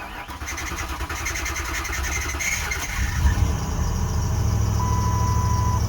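An old Lincoln car, newly revived with a recharged battery, fires up. Rough noisy cranking gives way to a steady, loud, low engine rumble running continuously close by.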